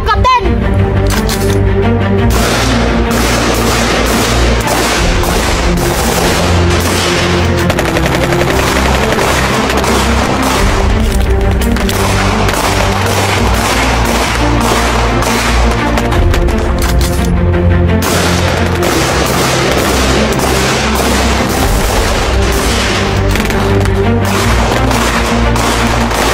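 Gunfire in a war drama attack scene set at a Dutch headquarters in Sidoarjo in 1945, heard as dense continuous bursts and booms in a loud, busy battle mix with voices throughout.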